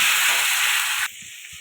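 Potatoes sautéing in a pan for a Bengali bhetki fish curry with taro, giving a loud, steady frying hiss that cuts off abruptly partway through, leaving a quieter low sizzle.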